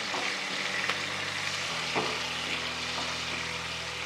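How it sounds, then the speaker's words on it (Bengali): Potatoes seasoned with salt and turmeric fry in mustard oil, giving a close, unbroken hiss and crackle with a few faint stirring knocks and no speech. "দিয়ে খুব ভালো করে আমি আলু ভেজে নেব"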